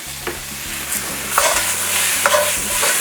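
Bean sprouts stir-fried for chicken chow mein give a loud, close sizzle with intermittent tossing and scraping clatters in a hot pan, with no voice present.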